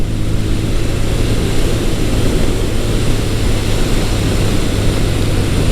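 A 1983 Suzuki GS1100L motorcycle with its stock exhaust gives a steady, loud engine drone with a deep low-frequency rumble, running continuously without pauses or revving changes.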